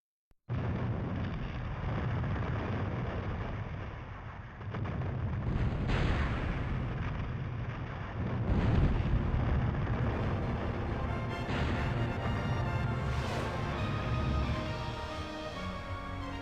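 A ship smashes through the Grand Fortress in Skies of Arcadia Legends: a sustained barrage of booming blasts and explosions with crashing debris, loud and continuous for the whole stretch, swelling around the middle and again near the end.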